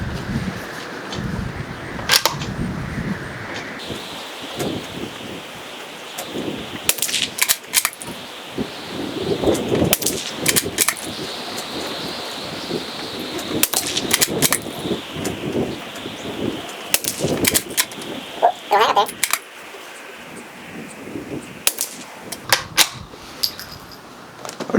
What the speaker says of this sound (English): We're going to go ahead and start with 5 rounds of Remington standard velocity ammo